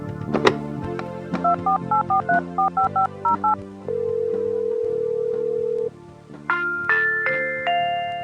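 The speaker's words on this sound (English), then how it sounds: "Call the number that you received and dial the code that Zoom gave you." A string of short telephone keypad tones beeps in quick succession while dialing into Zoom, followed by a long steady tone and a few higher electronic beeps.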